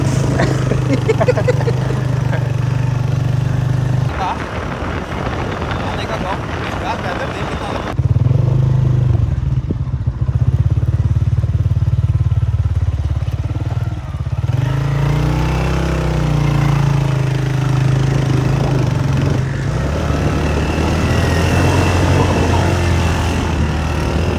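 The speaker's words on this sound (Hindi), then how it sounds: "जीप थी नहीं, तो इसलिए हम लोग बाइक पे आए।" A motorcycle engine runs steadily throughout while riding toward a village, a loud continuous drone with shifting tone and some clatter, with voices talking over it at times.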